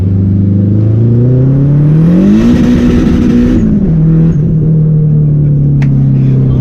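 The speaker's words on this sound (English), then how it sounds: "Let's do a second gear, quick little pull" Turbocharged Honda Civic with a K24 engine pulling hard in second gear, a loud close-up engine drone that rises steadily in pitch, peaks briefly with a burst of turbo hiss, then drops back and settles into a steady cruise.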